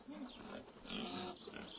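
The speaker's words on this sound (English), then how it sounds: "This is a pig." A pig grunts and oinks in a few rough, repeated bursts, fairly close and moderately loud, with no talking over it.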